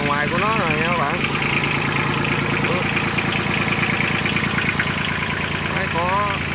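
Kubota L2002DT tractor diesel engine idling on a test run, a steady, close mechanical chugging with a knocking rhythm, with someone talking over it at the start and end.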